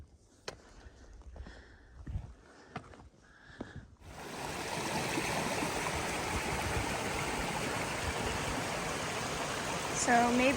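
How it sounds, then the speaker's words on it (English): A Vermont mountain stream flows with a steady broadband rush that starts abruptly and stays constant and fairly near to the end, following a few seconds of quiet rustles and knocks. "So maybe gorgeous streams are just part of Vermont"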